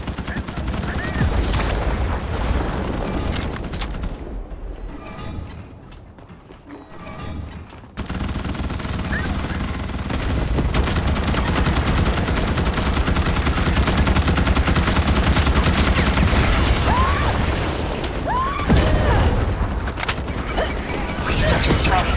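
Rapid weapon fire from Starship Troopers: Extermination, dense sustained bursts of machine-gun shots with clattering mechanisms, briefly dropping to quieter firing before heavy continuous shooting resumes amid in-game battle noise.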